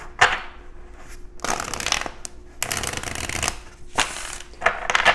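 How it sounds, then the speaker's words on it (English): Tarot cards are riffled and shuffled by hand in four or five crisp, rustling bursts separated by short quiet gaps, close and clear with no talking. "Let's go ahead and get a shuffle in here for you"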